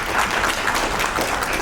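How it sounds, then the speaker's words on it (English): Audience at a packaging conference claps together in a dense, steady wash of applause, filling the whole brief moment without a break. "Kindly keep the applause going."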